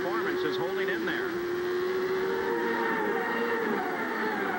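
1989 CART IndyCar race car at Portland, a high engine scream with a rising then steady pitch as it runs down the straight, loud and sustained beneath a commentator talking.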